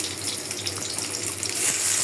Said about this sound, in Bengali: মুরগি তরকারিতে পানি দিয়ে দিলাম